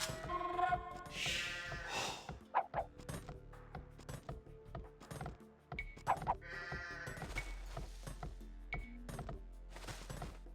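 Sheep bleat in the Age of Empires II video game, several short wavering bleats spread across the clip among other game effects and chimes.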